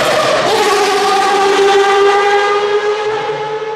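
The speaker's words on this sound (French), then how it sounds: "Si jamais les 24 heures du Mans doivent garder qu'un seul bruit de voiture de toute son histoire, c'est bien celui de la Mazda 787." Mazda 787 race car at the 24 Hours of Le Mans, its engine screaming loud and close in a sustained high-revving howl with strong harmonic tones that shift slightly as it passes.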